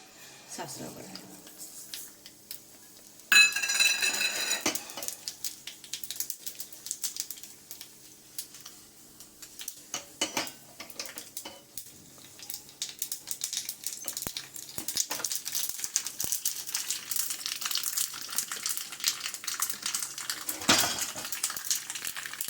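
Mustard seeds splutter in about two teaspoons of hot oil in a small pan on the stove, a crackly, irregular popping that grows denser over time, with a sharp clatter near the start and a voice talking over it.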